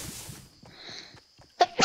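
A single sharp sneeze bursts out near the end, close and loud, following quieter chatter and game sounds during a shooter match.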